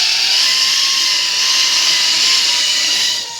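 Motors of a homemade low-cost camera drone spin up on its first flight, giving a loud, steady high-pitched whine that holds throughout and cuts off briefly at the end.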